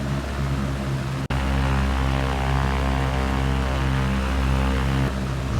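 Propeller engine of a Carenado C152 light plane in a flight simulator game, held at high throttle: a loud, steady droning buzz with a strong harmonic hum, a single brief dropout, otherwise continuous.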